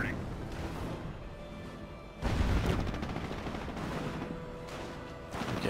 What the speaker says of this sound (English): Better pop that suppression fire.